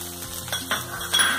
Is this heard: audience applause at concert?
no